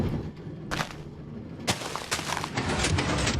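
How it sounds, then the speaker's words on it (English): Pistons fire in a Minecraft automatic sugar cane farm, a string of sharp, loud mechanical bursts and clacks repeating close by, some overlapping, with no voice over them. "we could hear the pistons firing, which means the whole farm is working"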